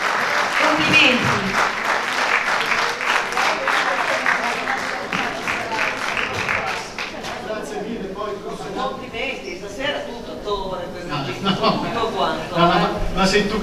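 A crowd applauds at a film awards gala after a winner is announced: a dense wash of clapping in the first half that fades as a presenter keeps talking, and speech carries on alone afterwards.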